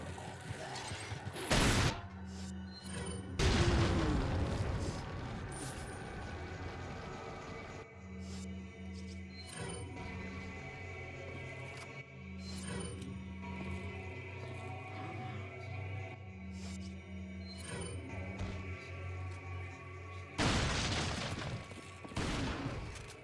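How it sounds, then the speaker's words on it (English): Gunfire and explosions from the video game Resident Evil 4, with heavy bursts of rapid shots and booming blasts near the start and again near the end, steady weapon and mechanical noise between. "I'm gonna actually throw a grenade here."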